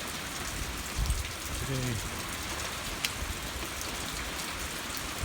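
Light overnight rain falling on a warm, windy night, filling a tub: a soft, even patter with a few brief louder drips, and a voice speaking briefly over it.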